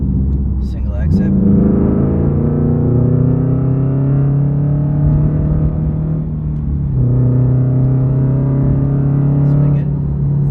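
A 2022 Toyota GR86 fitted with a 3-inch single exit exhaust drives at a steady low rumble, with a constant droning engine tone that shifts slightly in pitch partway through.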